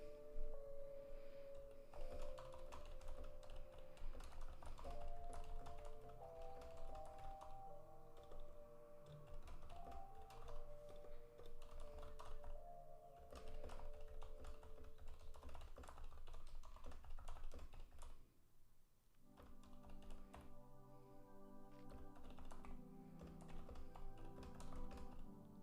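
Continuous typing on a computer keyboard during a web design work session, rapid key taps clattering steadily under soft background music.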